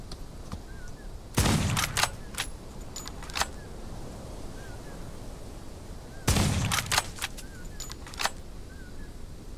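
Two sharp sniper rifle shots in a video game, several seconds apart, each a loud broadband crack with a short ringing tail over steady ambient game noise.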